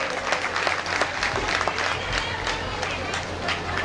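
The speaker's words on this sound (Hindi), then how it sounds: "सब लोग ताली बजाकर स्वागत करें।" Crowd applauding in welcome of a state minister at an outdoor tribal festival gathering in Kasdol, Chhattisgarh, with dense sustained clapping that fills the clip and a public-address hum underneath.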